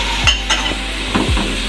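A pan gravy of chili and soy sauce being stirred, giving loud close scraping strokes over a steady sizzling hiss, with a few distinct spoon sweeps across the pan.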